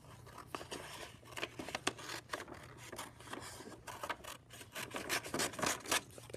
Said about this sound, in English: And then I'll just cut on my line.